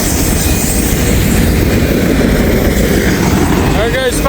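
Freight train M561 rumbles steadily past at close range, a loud continuous roar of wheels and cars with clanking and a squeal near the end from a bad bearing.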